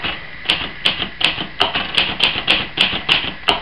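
Crisp, evenly spaced keystrokes clack on a Hermes 3000 portable manual typewriter, about three strikes per second in a steady, unhurried rhythm, close and clear with no voices.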